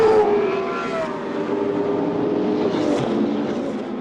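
GT2 race cars pulling away after the green flag at Paul Ricard, several engines roaring together with rising pitch sweeps as they accelerate, loud and continuous, passing fairly close.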